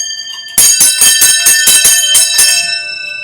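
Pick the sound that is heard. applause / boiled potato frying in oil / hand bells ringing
hand bells ringing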